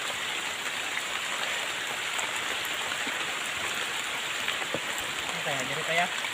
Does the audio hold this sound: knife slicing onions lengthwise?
no